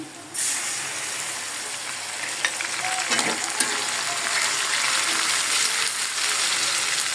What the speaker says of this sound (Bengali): মশলাটা হালকা একটু কষাই